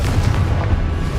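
Confringo fire-blast spell explosion in Hogwarts Legacy, a deep rumbling boom that fills the whole moment, loud and close with no talk.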